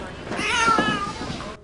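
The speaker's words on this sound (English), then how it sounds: "Tom can only communicate through meows, which he does endlessly to the point that it's really annoying" A cat meows repeatedly in the film Nine Lives, a drawn-out, wavering cry that swells and fades over a couple of seconds with faint voices murmuring underneath.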